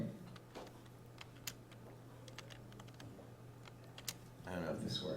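Keys clatter on a computer keyboard in a quiet room, a run of light irregular taps at moderate distance over a low hum, ending as a voice begins to speak.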